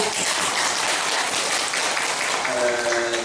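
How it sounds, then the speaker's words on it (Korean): Applause from a temple congregation at a Buddhist Dharma lecture gathering, a dense, steady wash of clapping filling the hall without pause for several seconds. "우리 또 신도님들께 박수 오고"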